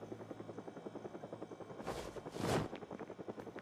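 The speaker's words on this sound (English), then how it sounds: "The helicopter was on its way." A helicopter approaches in Project Zomboid, its rotor giving a fast, steady thudding pulse that stays prominent throughout, with two brief louder whooshing swells near the middle.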